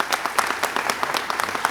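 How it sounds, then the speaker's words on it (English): Audience applause at a Detroit mayoral announcement about youth employment, with scattered clapping from a moderate crowd and uneven individual claps standing out, steady and fairly brief. "Let's give that another round of applause"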